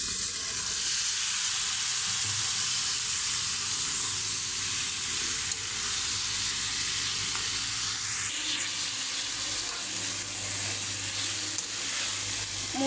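Chopped ash gourd pieces tipped into fried spices in a pan sizzle in a steady, loud, continuous hiss that shifts slightly partway through, with no talking.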